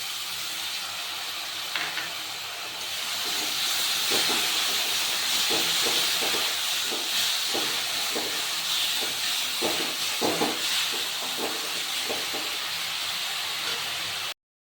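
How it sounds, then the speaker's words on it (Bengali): Tomato paste going into fried cumin, turmeric and chilli paste in a pan, a strong steady hissing sizzle with a rhythm of soft clicks and scrapes from stirring throughout. "মশলাটা ভাজা ভাজা হয়ে গেছে, এখন আমি দিয়ে দিব টমেটো পেস্ট"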